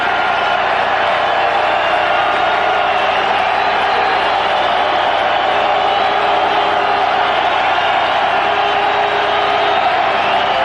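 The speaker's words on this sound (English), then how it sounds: "Crowd getting into it, as you can hear." A football stadium crowd at a Boise State at Idaho college game roars continuously and loudly, a dense wash of cheering and whooping that holds steady throughout.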